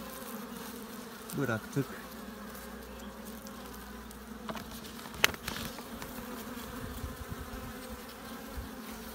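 Honey bees buzz steadily during feeding at the hives, a dense, continuous hum close by, with a few brief knocks and handling noises and someone speaking quietly.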